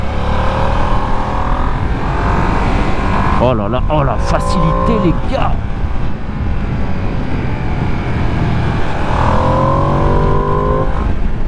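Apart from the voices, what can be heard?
Ducati Panigale V2S motorcycle engine accelerating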